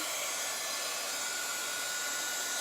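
A hair dryer blows steadily at close range, a continuous whooshing hiss with a faint motor whine, no voices.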